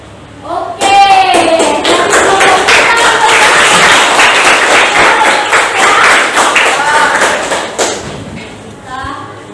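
A classroom group claps hands in short counted bursts, the sharp claps landing together in quick clusters amid excited children's voices and someone speaking. The clapping settles into a sustained stretch before dying away as a voice resumes.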